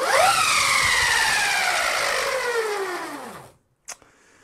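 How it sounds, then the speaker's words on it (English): XXL LEGO go-kart driven by a BLDC motor, whining loudly as it spins up with harmonics that climb and then slide down as it winds down over about three seconds. A sharp click follows before the clip goes quiet. "So you can hear the motor whines more in BLDC mode."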